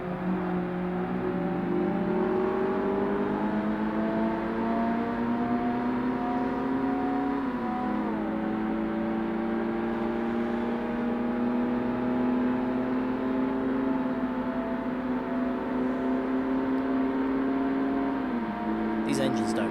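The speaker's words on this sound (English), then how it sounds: "These engines don't sound right at all." Several race car engines in the original Forza Motorsport game, including an RX-7 and an MX-5, drone together as a sustained layered whine whose pitch climbs and drops at gear changes, with a brief sharp noise at the very end.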